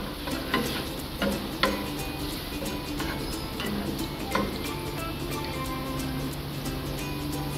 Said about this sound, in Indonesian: Kita akan menumis sampai bawang putih layu dan harum